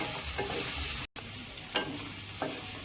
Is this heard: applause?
no